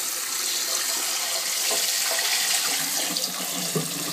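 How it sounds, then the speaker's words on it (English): Cold water runs steadily from a kitchen tap into a pot being rinsed out after cooking, a continuous broadband rush with small splashy fluctuations, fairly close and alone with no talking. "Let's get cold water and rinse the hot one out."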